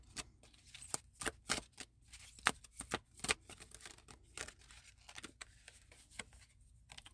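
Oracle cards are shuffled by hand, giving quiet, close riffling and flicking bursts in an irregular rhythm, with soft pauses between the bursts.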